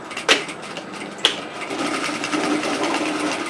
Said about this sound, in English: So now I'm just going to stitch,